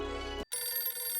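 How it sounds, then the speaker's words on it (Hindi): A telephone rings in a domestic sitcom setting, a steady electronic tone that cuts off briefly and then resumes, loud and close, with no one speaking. "दया का फोन"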